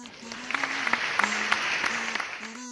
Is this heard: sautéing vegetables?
no